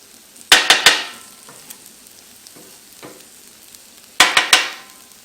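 Eggs cooking on a Blackstone griddle with a soft steady sizzle, broken by two quick clusters of loud metallic clacks from a spatula or utensil.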